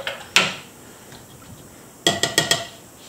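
A paintbrush stirs yellow paint off to one side and clinks against its container: one sharp tap early on, then a quick cluster of four clinks near the end. The clinks are close and heard alone.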